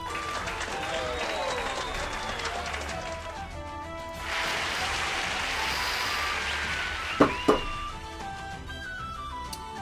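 Applause and cheering from an RPG Maker video game swell as a broad crowd wash for about three seconds, over soft game music and chime-like tones, before fading back.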